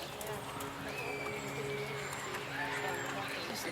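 A horse trots in a riding arena, hooves clip-clopping steadily at a moderate distance under faint background noise.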